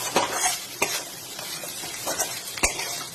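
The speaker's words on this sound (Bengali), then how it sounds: "এটা ভালো করে কষে নিয়ে আবারও ঢাকা দিয়ে দিতে হবে" Bihari chicken is stirred and fried with spices in a pan, with a soft steady sizzle under repeated scraping strokes of a spoon and a sharp clack near the end.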